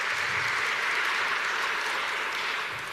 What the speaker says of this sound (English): Let's give the Reverend a round of applause.